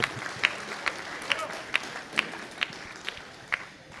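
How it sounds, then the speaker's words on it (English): Reception guests clap together after a call for a round of applause at a wedding reception, a loose crowd clapping with a few sharper claps standing out at a steady pace, moderately close amid room murmur. "A big round of applause for Nani, please."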